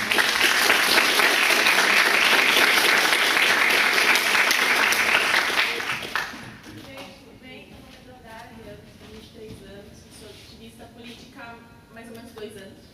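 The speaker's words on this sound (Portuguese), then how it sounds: "uma salva de palmas para todo mundo" Dense applause from a crowd at a political youth movement launch rings out loudly for about six seconds, then drops away sharply as a voice begins speaking over a quieter room.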